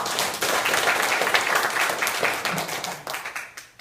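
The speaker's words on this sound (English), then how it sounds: "Give yourselves a big round of applause." Audience applause at a political campaign event in Placentia, a loud burst of many hands clapping close by that thins out and fades toward the end.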